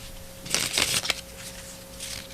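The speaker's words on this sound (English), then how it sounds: "Alma taught me how to shuffle the deck of cards" A deck of playing cards being shuffled close by, a quick burst of riffling flutters lasting about half a second, followed by a lighter ruffle, alone with no talk.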